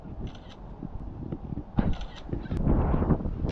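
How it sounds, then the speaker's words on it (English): Seagulls calling near the water, a few honking, squawking cries over steady outdoor rumble and wind, growing busier toward the end. "There's 4 seagulls swimming from there."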